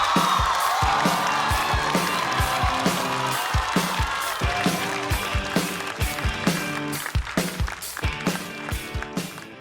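A live stand-up comedy show audience greets the next comedian with sustained applause and cheering, a dense crowd roar over rhythmic thumping beats, loud and continuous throughout.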